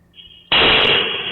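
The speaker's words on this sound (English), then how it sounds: "Tiffany and Ross wake to the sound of two more explosions." After a quiet moment, an explosion erupts on a house porch at night, a sudden loud broadband blast that roars on and slowly fades, heard from a nearby security camera.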